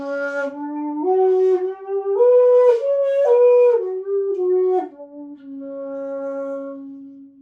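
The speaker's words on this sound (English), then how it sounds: "Most people, when they're introduced to shakuhachi, they hear the newest iteration of the scale" A breathy shakuhachi bamboo flute plays a slow scale of sustained notes stepping up and back down, each tone clear and held, ending on a long low note.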